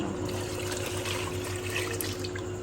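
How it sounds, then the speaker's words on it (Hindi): Yakhni stock pours into a pot of cooking trotters, a steady liquid splashing and trickling sound heard close up over a low background hum, with no one talking. "अभी इसमें मैं ऐड करूँगी यखनी।"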